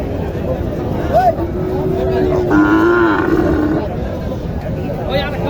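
A Jersey-type bull lows at the Joypurhat cattle market, giving a few drawn-out moos over a constant crowd murmur while people talk nearby.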